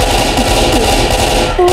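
Automatic rifle fire from Left 4 Dead 2, a fast, dense, steady burst of close, loud shots running continuously, with no talk over it.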